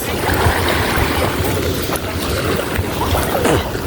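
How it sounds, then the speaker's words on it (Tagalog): Boat motoring on the open sea near Magalawa Island, a steady engine rumble mixed with splashing water and wind, close and loud. "Ayun na bangka, guys."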